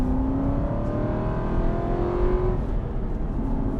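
An Aston Martin V8 Vantage drives at steady speed, its engine droning loud and close from inside the cabin with a rising tone as it pulls, and no one talks.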